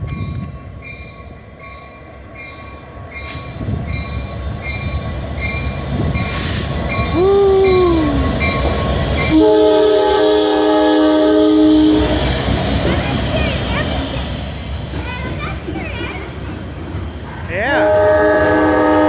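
A Norfolk Southern freight train hauling covered hopper cars rolls past a station in Niles, Michigan, with a loud steady rumble, a long horn blast and squealing wheels, while a person speaks briefly nearby.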